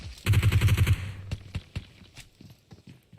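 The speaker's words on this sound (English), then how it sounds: "team number 24 is also firing them" Gunfire in a Red Bull MEO Season 3 Maldives qualifier shooting match: a quick automatic burst of about ten shots, then scattered single and distant cracks trailing off.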